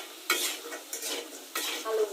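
Potatoes fry in a pan with a light sizzle broken by a few close scraping stirs of a utensil across the pan, brief and quiet with no voices.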